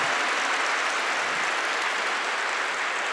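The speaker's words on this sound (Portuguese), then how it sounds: "Vamos bater palmas para o Padre Marlon" A congregation applauds for Padre Marlon at a religious gathering, a dense, unbroken wash of clapping from many hands at steady moderate loudness, with no voices standing out.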